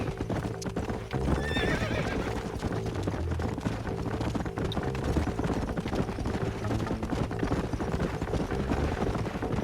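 Steady clip-clop of horse hooves trotting in Red Dead Redemption, with a horse whinnying early on, over a constant game-like ambient backdrop.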